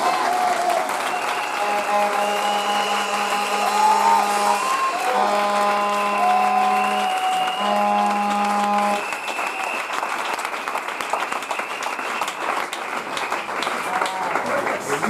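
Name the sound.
congregation applauding and cheering for the Lord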